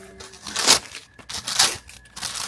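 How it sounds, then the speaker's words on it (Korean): Plastic packaging is peeled off a Donner Hush travel guitar: several loud crinkling, crackling bursts close by with short pauses between them. "비닐류를 잘 까볼게요"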